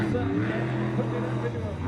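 A monster truck at a dirt-track show spinning a donut up on a dirt berm, its engine roaring in a sustained revving drone at moderate distance, with crowd babble and talk mixed in.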